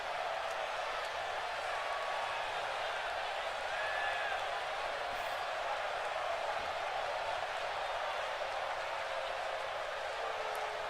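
A sellout crowd at WrestleMania in WWE 2K22 sends up a steady, distant roar of cheering and clapping that holds at an even level throughout.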